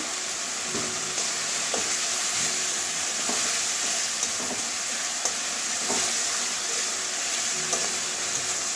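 Spice paste with garam masala powder sautéing in oil in a pan, a steady loud sizzle with soft periodic scrapes of a stirring spoon.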